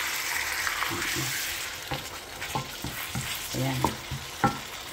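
Chicken pieces added to a pan of sautéed onion and ginger for sinigang, sizzling and frying with clattering stirs and scrapes of a utensil, close by, while a voice speaks briefly.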